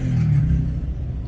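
Cars passing along a roadside in Catarman, a steady low rumble of engines close by, continuous and fairly loud for the whole stretch with no voices.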